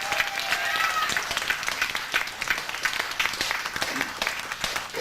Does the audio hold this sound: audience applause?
yes